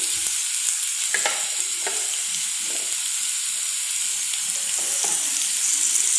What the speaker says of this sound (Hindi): इसे भी अच्छे तरीके से मिलाऊंगी